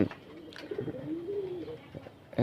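Pigeons coo softly and close by, a soft low warbling call rising and falling, with a few faint clicks and rustles around it.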